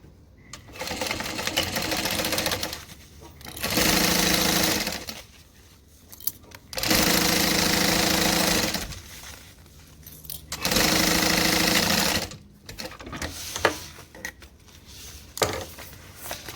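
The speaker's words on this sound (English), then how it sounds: "Stitch that on, making sure not to go past your cutout." A sewing machine stitches fabric in three sustained, loud whirring runs of a few seconds each, separated by pauses filled with handling noise and small clicks.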